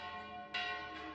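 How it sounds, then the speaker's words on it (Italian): Church bells ring along the Camino de Santiago, with a clear, resonant strike that swells and hangs in a sustained ringing tone, followed by another stroke a moment later, loud and without voices. "Le campane della chiesa mi ricordano che non c'è tempo da perdere."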